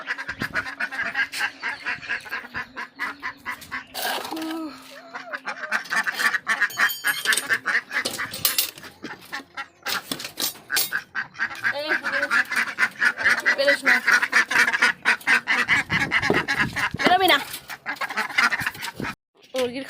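Domestic ducks quack and honk continuously at a home, loud and close, with overlapping raucous calls from several birds throughout, and a person talking intermittently in the middle.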